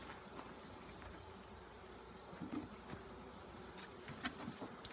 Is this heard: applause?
no